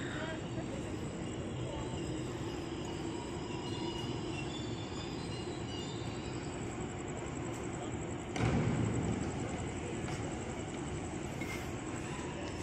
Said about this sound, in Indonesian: Oke, masuk juga nih Tokyo Metro 7000.